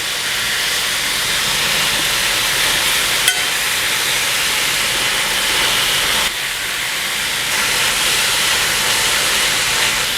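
Gochujang pork stir-fries in a pan over high heat, a loud, constant roaring sizzle that fills the whole stretch, broken by one sharp tick and a brief dip partway through, with no talking.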